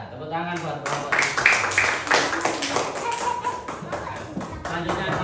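Applause from a classroom group for group 3, a burst of clapping and tapping rising after a short opening, with voices talking over the clapping throughout.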